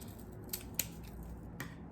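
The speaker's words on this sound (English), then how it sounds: "I can take my scissors and I can trim it" Scissors trim stray paintbrush bristles during handmade paintbrush making, giving three quick, quiet snips spaced through a soft, steady background.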